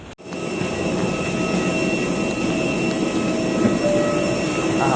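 Philippines AirAsia Airbus A320 jet engines, heard from inside the cabin as a loud, steady roar and whine that continues without a break.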